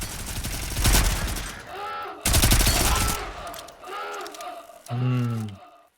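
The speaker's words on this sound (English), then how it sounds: "Guns in this game feel quite nice. They feel impactful and yeah, feels good to use them." Gunfire from guns in the video game Volcanoids, dense rapid bursts of loud automatic shots in two heavy volleys, with harmonic game tones and brief talk-like sounds between them.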